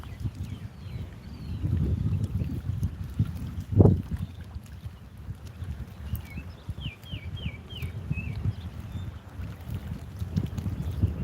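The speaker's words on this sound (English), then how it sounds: "the wind is killing my cast" Wind buffets the microphone while fishing from a boat on open water, a steady low rumble with a brief knock and faint rattling clicks, no speech.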